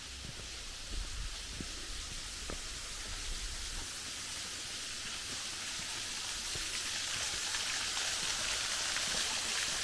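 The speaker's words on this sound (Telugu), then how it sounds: "ఇక్కడ వాటర్ ఫాల్ సౌండ్ వస్తుంది." Continuous hiss of a waterfall flowing on the Z Point trek at Kemmangundi, a steady broadband rush with faint thumps of footsteps early on and no talk.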